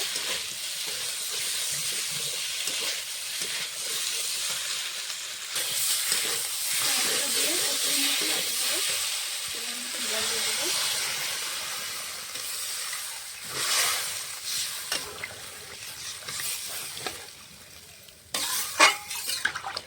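Spices and tomato sizzle and hiss in a hot pan while a spatula scrapes and stirs, with a few sharper clatters near the end.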